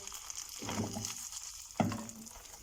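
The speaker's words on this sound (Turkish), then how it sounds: "Bu şekil çevire çevire böreğimizi pişirmeye devam ediyoruz." Potato börek frying in a pan and being turned over. A faint, soft sizzle comes with two brief scraping or shifting sounds, and nothing else is heard.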